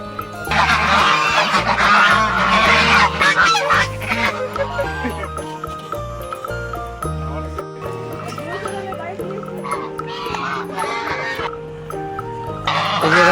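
Domestic geese crowd in at feeding time, honking loudly and repeatedly in overlapping calls, with people talking throughout.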